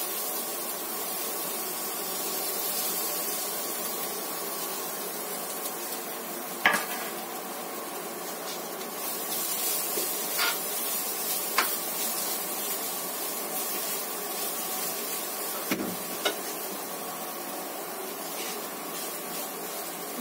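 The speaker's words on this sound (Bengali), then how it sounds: "সুজিটা ভালো করে ঘিয়ে ভেজে নিয়ে এই যে নারকেল কোড়া এটা এর মধ্যে দিয়ে দিলাম" Semolina and grated coconut fry in ghee with a steady soft sizzle, broken by occasional clinks and scrapes of a spoon against the pan.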